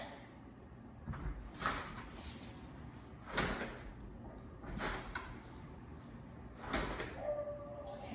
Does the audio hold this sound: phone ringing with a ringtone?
no